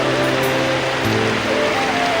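Rain falls steadily during a monsoon downpour on a flooded roadside, a constant dense hiss of drops on surfaces with no breaks, close and fairly loud.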